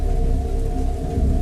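Heavy storm rain hisses steadily on surfaces while low thunder rumbles beneath it, a dense, loud and continuous downpour with no voices.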